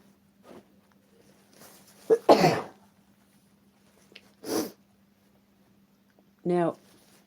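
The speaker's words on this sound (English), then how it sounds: "I'm going to sneeze." A sharp, breathy sneeze bursts out at close range, followed by a second shorter sneeze-like exhalation and a brief voiced sound, over a faint steady hum in an otherwise quiet room.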